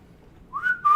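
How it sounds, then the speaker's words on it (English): A person whistles two short rising-and-steady tones, clear and close, in an otherwise quiet moment. "Can you whistle?"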